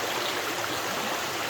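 A steady, full rush of a waterfall in Bali, a constant broadband roar with no breaks and no voices.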